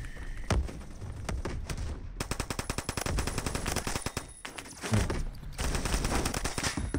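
An M1918A2 automatic rifle firing in Roblox Phantom Forces, loud close bursts of rapid automatic shots with short pauses between strings of fire.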